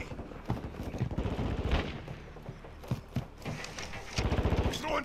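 A grenade launcher in Call of Duty: Modern Warfare II fires amid a busy multiplayer firefight, with punchy bursts and scattered gunshots, some heavy thumps, close and loud.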